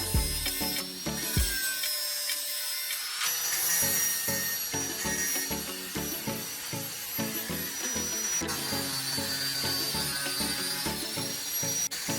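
A hand saw cuts through PVC plastic for a knife handle, a rapid, rhythmic rasping of steady back-and-forth strokes after a brief pause, close and fairly loud, carrying on for about ten seconds.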